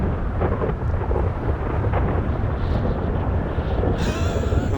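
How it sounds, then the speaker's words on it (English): Thunderstorm in the video game GTA Online, with a steady loud roar of rain and rolling thunder throughout, close and dense, with no talking over it. "Love the storm"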